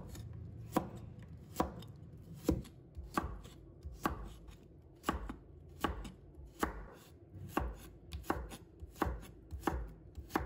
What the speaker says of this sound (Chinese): 再切成片